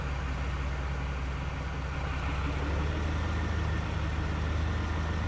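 A powerful tractor of about 200 horsepower runs in Farming Simulator 25 while sowing wheat, its engine giving a steady, low, droning hum at a constant level for the whole stretch, close by and unbroken.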